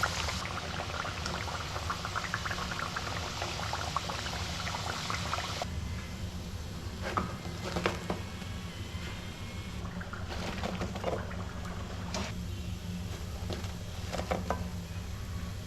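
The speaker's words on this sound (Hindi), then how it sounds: "फ्राई कर रही हूँ। ये हल्का हल्का अपना कलर चेंज कर रहे हैं।" Pinwheel samosas frying in hot oil, a steady close bubbling sizzle that runs throughout with scattered crackles and pops, no voices.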